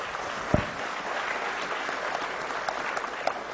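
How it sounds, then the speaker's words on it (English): A conference audience at a company law students' session applauds with dense, steady clapping that fills the hall evenly for several seconds. "Give a big round of applause to Ms. Shreya Shenoy."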